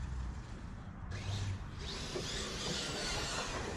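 An Arrma Fireteam RC car's stock electric motor whines high and steady while the car pulls a wheelie, the pitch rising sharply partway through and then holding, with no talk over it.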